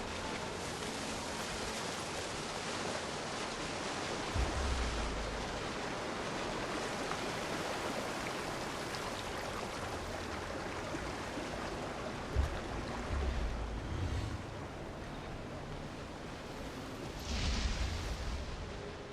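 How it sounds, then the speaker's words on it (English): A waterfall in the video game Guild Wars 2 roars as a steady, dense rush of falling water that fills the scene without pause, with a few low thumps and no talk. "Climb up the waterfall."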